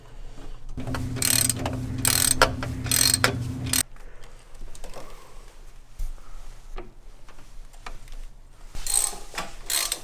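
A ratchet tightens a bolt on the exhaust test pipe of an Infiniti G35, giving rapid clicking strokes in bursts at the start and again at the end, close and fairly loud.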